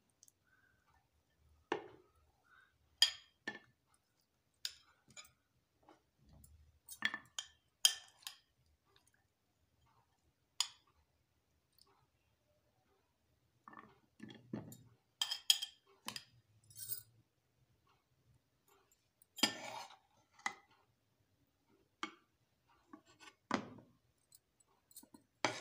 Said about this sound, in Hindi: और अब हम यूँ करेंगे कि सिरका में से गाजरें निकाल लेंगे।